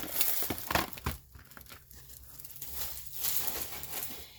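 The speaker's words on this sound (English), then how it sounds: "So I'm going to get this plastic off." Plastic wrapping is peeled and crinkled off tubes of Ohuhu watercolor paint in short, close, fairly quiet rustling bursts with brief pauses between them.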